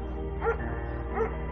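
A shepherd dog in the video game Firewatch gives two short, fairly faint barks about a second apart over a steady low background hum.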